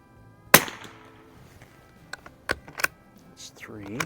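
A 1949 Mossberg 146B .22 LR bolt-action rifle is fired outdoors at 50 yards. One sharp crack comes early, with a few fainter clicks and pops after it, and a voice speaks briefly near the end.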